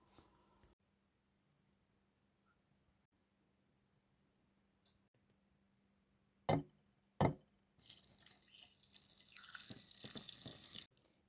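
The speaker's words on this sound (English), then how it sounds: "All right, so I've strained all this from the broth." Sauerkraut and white wine broth being strained, heard as two sharp splashes of liquid pouring through, followed by a sustained noisy rush of draining and dripping, close and alone with no talk.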